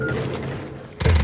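A flashbang grenade detonating in the shooter game Critical Strike, one sudden loud burst near the end after a stretch of steady background game noise.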